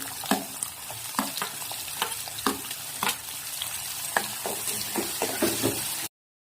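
Garlic cloves, ginger and onion sizzle steadily in a hot pan for a paneer masala, with repeated knocks and scrapes of a stirring spoon against the metal, then the sound cuts off.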